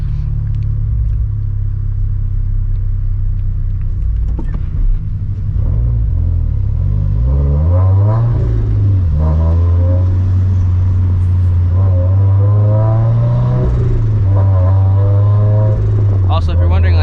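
Turbocharged Toyota FRS under way, its aftermarket exhaust droning loud and low with rising and falling revs through gear changes, steady wind noise layered on top, and someone talking over the engine throughout.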